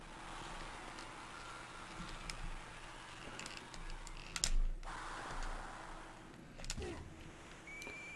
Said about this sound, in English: a clicky, a clicky keyboard